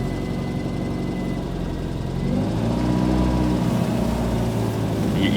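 A Triumph Spitfire engine runs unevenly after nearly stalling, a close low rumble whose revs dip and then rise into a fuller, steadier drone. No talk is heard.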